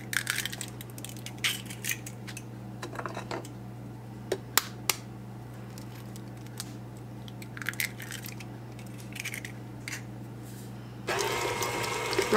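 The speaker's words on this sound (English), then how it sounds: "I'm going to add them into this cream cheese and mix them right quick." An electric mixer beating two eggs into cream cheese for banana pudding brownies, a steady low motor hum with scattered clicks and clatter of the beaters, getting louder and rougher near the end.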